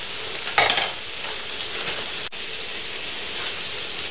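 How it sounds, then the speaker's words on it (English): Taco filling frying in a pan and being stirred, a steady hiss and crackle with a burst of louder sizzling near the start and a sharp utensil knock midway, with no talking. "Stir it around, make sure everything's"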